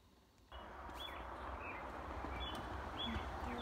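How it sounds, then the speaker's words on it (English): Birds chirp and tweet outdoors on a snowy morning, short high calls scattered faintly over a steady background hush, with a few sharper call bursts near the end. "You can hear the birds singing"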